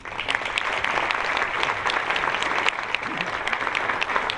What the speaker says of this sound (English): thank you for your applause welcoming Professor John Lennox.